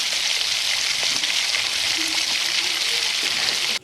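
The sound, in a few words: frying tomato and green chillies in a wok for chicken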